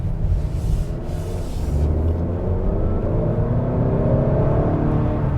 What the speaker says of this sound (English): And the Accord here will get up to speed really quick. That 2-liter is really fast.